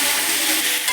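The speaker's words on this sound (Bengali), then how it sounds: "সবজিগুলোকে ভালো করে নেড়ে ভেজে নিচ্ছি" Vegetables seasoned with salt and turmeric stirred and fried in a pan for jhal suji, giving a steady, close, broadband sizzle that holds evenly throughout with no voices.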